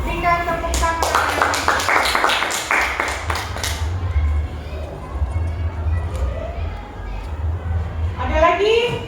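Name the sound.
classroom clapping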